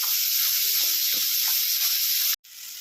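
Chili powder sizzles loudly in hot oil in a pan while aloo dum cooks, a steady bright hiss close by that cuts off abruptly near the end, then resumes more quietly.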